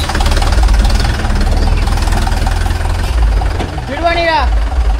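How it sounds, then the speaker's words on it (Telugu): A motorcycle engine idles and runs loud and close during a test ride, with a steady low chugging rumble. A brief rising whine cuts through near the end, and voices talk over it. "బైక్ చూసుకో ఒక ట్రైల్ కొట్టుకో"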